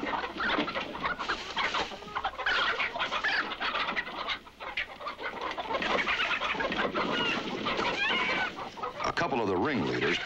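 A flock of cartoon chickens clucking and squawking loudly and continuously, with busy overlapping calls close by and a few sharper cries.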